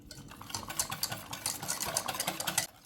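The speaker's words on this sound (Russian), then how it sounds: "Вливаем 250 мл холодного молока и снова тщательно перемешиваем венчиком." A wire whisk beats a starch, flour and cold milk mixture in a bowl, quick rhythmic scraping and sloshing strokes that run steadily and then stop abruptly.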